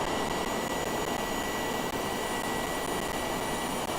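A jet airliner in Microsoft Flight Simulator roars with a steady, loud engine wash during a full-stop landing with reverse thrust, a constant broadband rush without speech.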